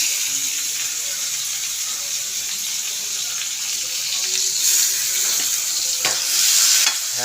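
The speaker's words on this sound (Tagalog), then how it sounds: "Yan, ginigisa natin ito." Garlic, onion and tomato sauté for a mongo dish in a steady bright sizzle, with a few sharper spatters and stirring scrapes rising toward the end; no one talks.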